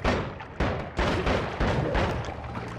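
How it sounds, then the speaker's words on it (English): Booming blasts tear through the floor in Noita, a dense, loud run of heavy explosive hits about every half second, each crack followed by crumbling rumble with no pause between. "just shoot a hole through the floor"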